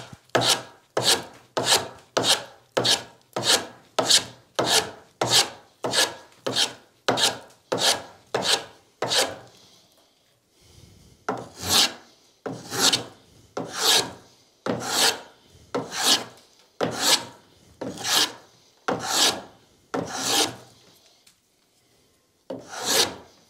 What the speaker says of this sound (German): ich hobel mich jetzt hier einfach an den Querschnitt heran